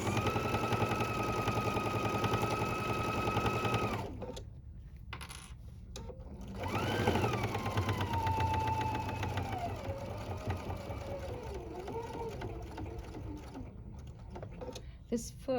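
A sewing machine stitches a quarter-inch side seam on a reusable fabric wine gift bag, its steady mechanical whir running close up for several seconds, pausing briefly, then resuming with softer tones and faint background sounds.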